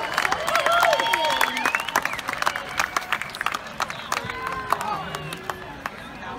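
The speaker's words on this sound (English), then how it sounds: "Give a nice round of applause." An audience applauds a vocal jazz ensemble at a jazz festival. The clapping is dense and sustained, with scattered whoops and cheers, and voices talk over it as the applause gradually thins.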